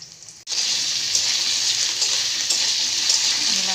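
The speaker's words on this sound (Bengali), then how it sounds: "আমি বাকিগুলো দিয়ে দিলাম তেলের মধ্যে।" Paneer pieces drop into hot oil, which breaks into a loud, steady sizzle after a brief quieter start and keeps frying evenly to the end.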